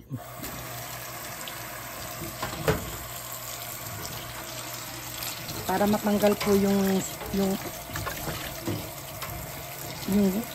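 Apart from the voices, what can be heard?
washing cabbage under running water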